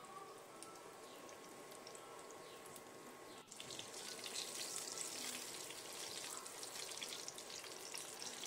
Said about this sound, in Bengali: তেলটা গরম হয়ে গেলে এতে আমি জিরে 1 চামচ আর গোটা জিরে 1/2 চামচ ফোড়ন দেব